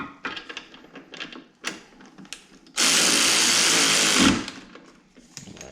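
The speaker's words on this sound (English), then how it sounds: "Give me some room to get the ratchet in here." A socket ratchet clicks in short bursts while working on a car's air ride suspension, followed by a loud continuous whirring burst of a power tool lasting over a second, then more scattered clicks nearby.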